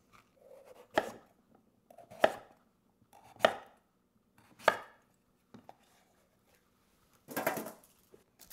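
A knife cutting through butternut squash on a board, five distinct heavy chops at uneven intervals of about a second, close and clear against quiet surroundings.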